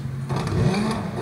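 A rally car in the racing game Dirt 3 revving and accelerating, a loud continuous engine roar that swells and holds steady over a short stretch, with no voices.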